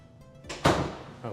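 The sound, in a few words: door being shut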